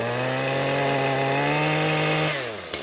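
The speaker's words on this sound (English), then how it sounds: "here's the new tool. It is a cultivator attachment" A string trimmer fitted with a cultivator attachment runs loud and steady with a strong engine drone, then winds down near the end.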